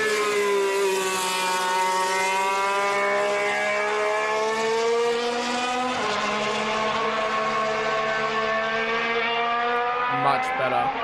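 A 2025 Formula 1 car at shakedown testing, running below full throttle, gives a loud, continuous high-pitched engine whine with steady harmonics that rise and dip slightly, holding strong for the whole stretch.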